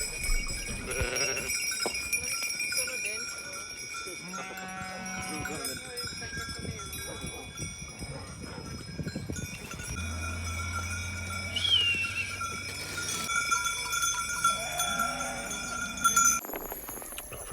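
A flock of sheep grazing during transhumance in Sicily: scattered bleats, cowbell clanks and hoof shuffling mix with outdoor ambience, spread over a long stretch with occasional low rumbles.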